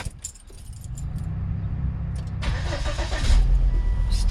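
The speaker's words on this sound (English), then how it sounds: "start the engine up" Keys jangle close by in a 2003 Volvo XC90, then the engine cranks and catches halfway through and settles into a loud, steady idle.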